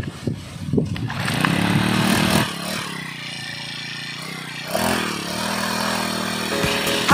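A small gasoline grass cutter engine is started and catches, then runs at a steady idle with a brief rise in revs, loud and close, with no talk.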